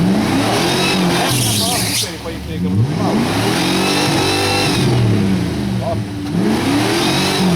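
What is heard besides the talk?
Jeep Cherokee engine driving off-road through a puddle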